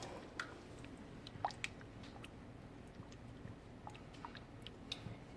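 Buffalo ranch sauce seasoned with garlic powder and black pepper being stirred in a bowl, giving faint wet squishes and a few soft clicks, quiet and close, with no talking.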